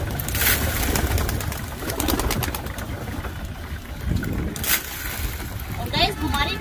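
Soft pigeon cooing and fluttering among a flock, with bursts of wing noise and low murmuring in the background.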